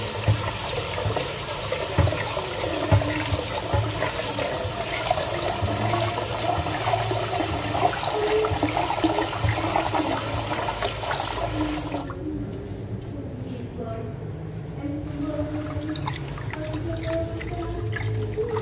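Water runs steadily from a tap while rice is washed, a continuous splashing rush that drops off abruptly near the end and leaves softer trickles and drips.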